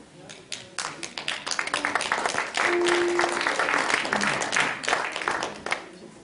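Applause at an evening gathering in Plouagat, Brittany, starting with scattered claps, swelling into steady clapping from a crowd, then tapering off, with some voices heard under it.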